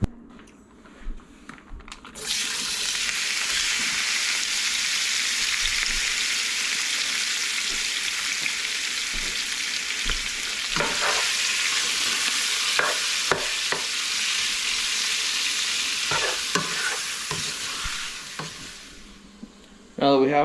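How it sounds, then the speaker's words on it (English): Bear stew meat browns in an oiled pan, a loud, steady sizzle beginning after a brief quiet start and running continuously, broken by occasional scrapes and stirring knocks, with no talking. "And I'm just gonna take a package of bear stew meat from last year's bear here. And we're just gonna start browning it up."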